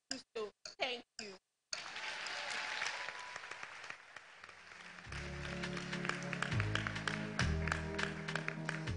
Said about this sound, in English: Big round of applause for her again, please.